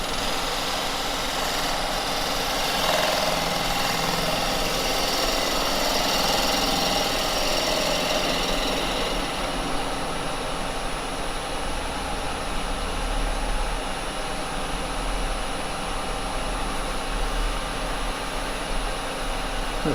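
A wood lathe spinning a cherry wood blank at 1200 RPM, turned with carbide chisels: a steady mechanical hum and whir with faint tool scraping, continuous and fairly quiet, no talking.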